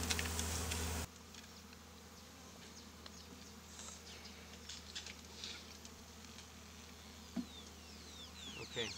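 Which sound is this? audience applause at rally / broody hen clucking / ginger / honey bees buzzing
honey bees buzzing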